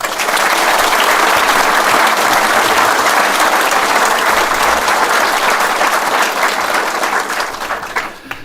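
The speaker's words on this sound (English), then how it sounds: "A round of applause for them all, please." Sustained, loud applause from a large audience at the Castle Craig Reunion 2023, honoring staff teams; steady dense clapping that carries on for several seconds before tapering off at the end.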